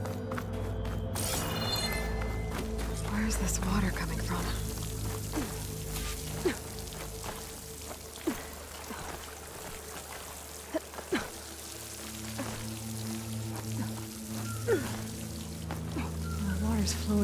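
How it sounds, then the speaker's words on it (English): Water flows and splashes into a wall in Horizon Forbidden West, a steady rushing wash with scattered drips and small impacts, while a voice speaks over it. "The water's flowing into the wall."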